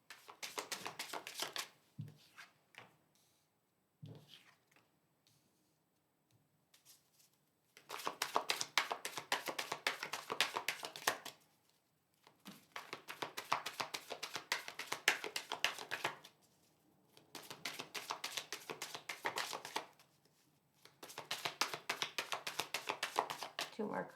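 Tarot cards shuffled and riffled in several long, rapid bursts of crisp flicking, close and fairly quiet, separated by brief pauses with soft handling taps.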